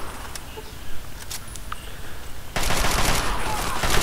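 Chinese assault rifle fire in Fallout 3: sparse sharp cracks give way to a dense, sustained burst of automatic shots that stays loud to the end.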